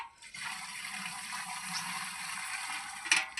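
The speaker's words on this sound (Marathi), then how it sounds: "आता हे थोडं पाणी ह्याच्यात मध्ये ओततो" Water pours steadily into a pesticide sprayer tank, a continuous close, hollow rushing fill lasting a few seconds before a brief clatter at the end.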